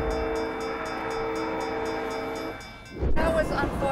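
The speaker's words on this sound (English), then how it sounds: "That was unfortunate timing of the train." A train rumbles past at close range, a steady clattering roar with a horn blast, drowning out a person talking nearby before the noise breaks off near the end.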